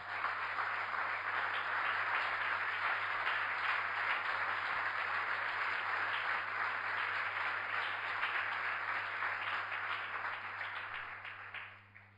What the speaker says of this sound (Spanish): Denle un fuerte aplauso entonces.